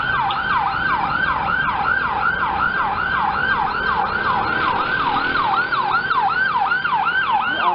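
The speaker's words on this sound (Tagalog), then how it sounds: "Ambulansya na naman sa galing ng Bacoor." Ambulance from Bacoor, seen from an overpass in Manila, with a fast wailing yelp siren cycling steadily and loudly, close by, over low traffic rumble, with no talk.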